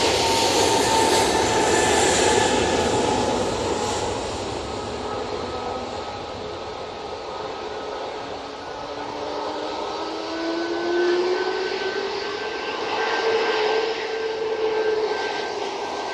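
Airliner jet engines roar steadily while departing Manchester Airport, a loud sustained broadband rumble with a rising whine that swells again toward the end, heard from a spotting position with no talk.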